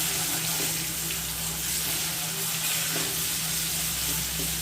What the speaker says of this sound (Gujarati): લીલું લસણ વાટીને રાખ્યું હતું એ નાખીશું.